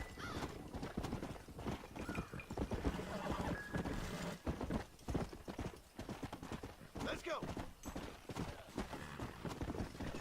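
Horse hooves clip-clop steadily on the ground in the Red Dead Redemption video game, loud and close, with a brief neigh and someone talking over the rhythmic footfalls.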